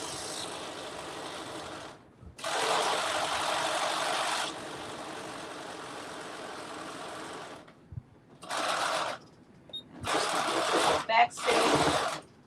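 A sewing machine stitching the slit of a tunic runs in several bursts, a long steady whirring run followed by shorter starts and stops with brief pauses, close and clear.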